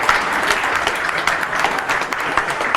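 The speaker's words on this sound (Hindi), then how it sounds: "न्यूज़ रूम में तमाम लोग जो हैं जोरदार तालियों के साथ स्वागत करें" Newsroom staff at a Hindi news channel receive steady applause from a room of people, continuous and fairly close with no pauses.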